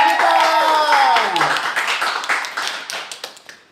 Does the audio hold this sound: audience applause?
yes